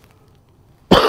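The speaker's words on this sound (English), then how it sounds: "Again, I am so sorry to put you guys through the coughing." A single sharp, loud cough bursts out after a second of near silence, close to the microphone.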